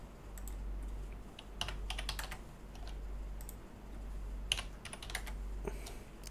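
Computer keyboard keys pressed in a few short clusters of quick clicks, fairly faint over a constant low hum.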